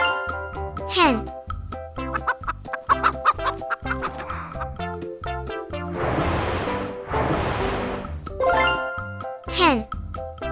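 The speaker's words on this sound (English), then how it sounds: "Hen." Hen clucking on a children's farm-animal track, a series of short rhythmic clucks over light background music with chiming tones.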